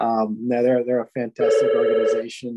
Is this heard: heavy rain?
no